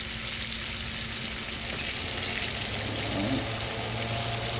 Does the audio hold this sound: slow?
no